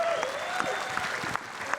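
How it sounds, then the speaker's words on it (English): Steady crowd applause at the Australian Open men's singles final for the champion, filling the arena with a few louder claps standing out, and no speech over it. "let's give a big round of applause for Aron Sherriff for number 7."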